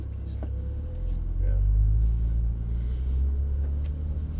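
A Porsche Turbo S pulls away gently in manual mode at Exotics Racing in Las Vegas, its engine a low steady rumble heard from inside the cabin as a driving instructor talks over it.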